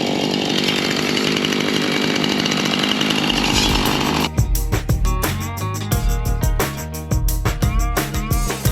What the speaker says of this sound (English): All right, Nicole, I just ran out of my first tank of gas on the chainsaw